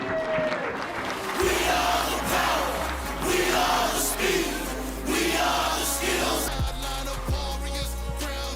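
Lively crowd at a live show cheering, whooping and shouting in loud overlapping bursts, with a steady low hum running underneath throughout.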